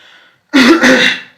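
A single loud, harsh cough up close, with faint background noise just before it.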